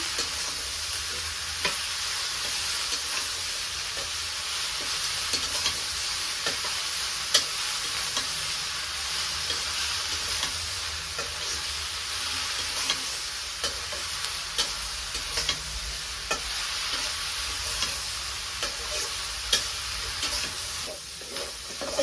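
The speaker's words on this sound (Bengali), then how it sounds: "আমি নাড়াচাড়াটা মিশিয়ে নেই" Taro pieces frying in a pan while being stirred and mixed, a continuous loud sizzle broken by repeated scraping and knocking of the spoon against the pan, with no voices.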